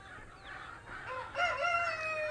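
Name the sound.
chicken rooster crowing on farm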